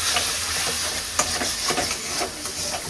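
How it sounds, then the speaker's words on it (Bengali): Spice masala frying in hot oil in a pan as it is stirred, a steady close sizzle broken by scraping strokes of the spoon at an uneven rhythm. "আর এখানে মশলাটা কষছি।"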